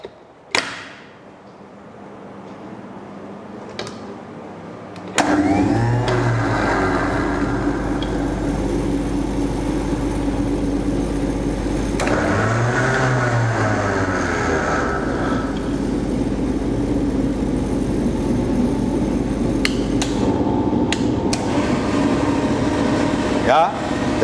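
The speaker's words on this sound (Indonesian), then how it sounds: "cabin blower dan avionics blower sudah kembali bekerja dengan normal" Cabin blower and avionics blower of an aircraft electrical system trainer switching on with a click, then a steady loud whooshing airflow with motor hum that runs for about fifteen seconds before cutting off, with voices talking over it.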